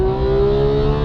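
A Porsche 911 GT3 or Bentley Continental GT revs hard on kick-down, a loud, close, steady engine note climbing smoothly in pitch without a break.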